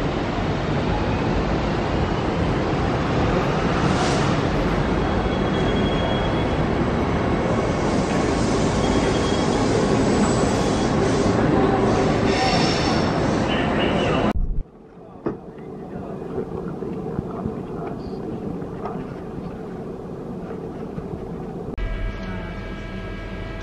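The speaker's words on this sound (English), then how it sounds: "These are the cars for the 11 a.m. Rockhampton tilt train service." A Rockhampton tilt train sits at a Brisbane station with a loud, steady rumble for about fifteen seconds, then the noise drops abruptly to a quieter mechanical hum with occasional clunks.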